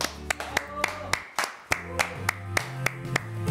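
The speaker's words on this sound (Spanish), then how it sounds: "Un aplauso para Cristian." A studio audience claps for a guest named Cristian on a Colombian cultural TV program, giving sparse, moderately loud claps at a steady rhythm. Tonal music and some voices run underneath.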